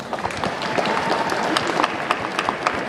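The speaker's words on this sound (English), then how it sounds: "Give him a huge round of applause." A convention panel audience at Sunnycon breaks into applause for a guest. Dense, continuous clapping fills the room for about three seconds, fairly close and loud.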